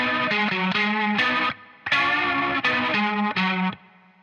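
Distorted electric guitar playing a short lead lick, heavily effected with chorus: clear sustained phrases with brief gaps, then finishing single notes on the fourth string that stop abruptly, close and alone.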